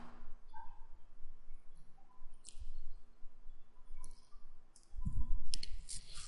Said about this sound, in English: I'm using a middle mouse button click to constrain this as I move it